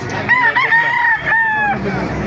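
A rooster crows loudly and close at a bustling market stall in Baliuag, one long drawn-out crow with a rising and then falling pitch over faint background murmur.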